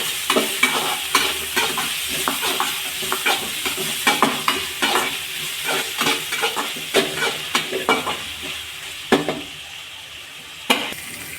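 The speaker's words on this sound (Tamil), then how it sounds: "நல்லா வறுத்துக்குங்க" Onions with salt, the large kind, sizzle steadily in a pan while a utensil stirs and scrapes them in repeated irregular strokes, close and fairly loud with no voices.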